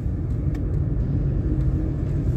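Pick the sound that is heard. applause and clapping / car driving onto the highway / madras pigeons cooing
car driving onto the highway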